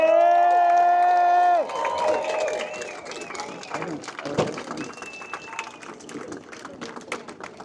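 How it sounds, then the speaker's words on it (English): A crowd at a harbor parade of sailing ships cheers and claps for a small skipjack boat, a loose ragged burst of voices after a horn blast fades out. "Let's give a cheer for the skipjack!"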